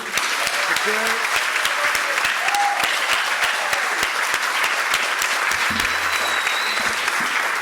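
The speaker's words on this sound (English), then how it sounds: "give a huge round of applause to the class of 2024" Sustained applause from an awards ceremony crowd honoring a graduating class, a dense, steady wash of many hands clapping at moderate distance, with a few brief voices and cheers mixed in.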